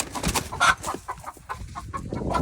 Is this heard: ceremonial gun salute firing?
no